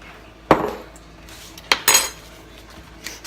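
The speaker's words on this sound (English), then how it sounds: "We're going to put in a pat of butter, and then our corn." A pat of butter and canned corn go into a cooking pot, giving a few sharp metallic clinks and clatters of a utensil against the pot, close by, with no one talking.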